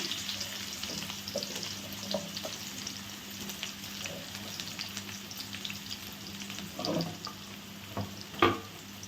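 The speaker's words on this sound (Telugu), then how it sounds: "కొద్దిగా జీలకర్ర, అలాగే ఆనియన్స్ అండి చిన్న ముక్కలుగా కోసి వేసాను నేను." Cumin seeds and finely chopped onions fry in a pan for an aaku kura curry, a soft, steady sizzle with faint crackles and a few small clinks of a utensil near the end.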